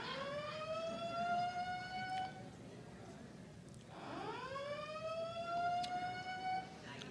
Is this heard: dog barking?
no